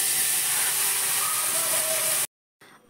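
Five-spice, bay leaf and dried chilli hit hot oil with a loud, steady close hiss that cuts off abruptly near the end, followed by a brief quieter resumption.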